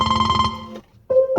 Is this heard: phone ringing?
yes